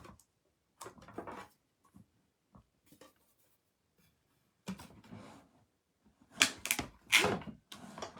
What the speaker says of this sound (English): I'm just gonna cut a couple leaves out